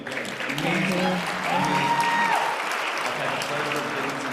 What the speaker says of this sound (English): Round of applause for this young one again.